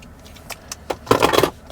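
A short burst of car keys for a 2006 VW Passat B6 jangling close by, a few light metallic clinks building to a brief bright rattle near the end.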